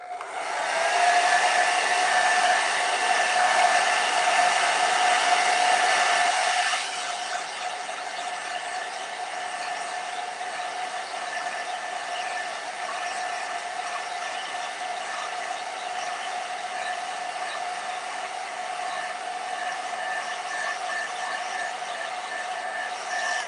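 A hair dryer blows on wet watercolor paint: a continuous whirring roar with a high whine, louder for the first few seconds and then settling to a slightly quieter, steady hum for the rest.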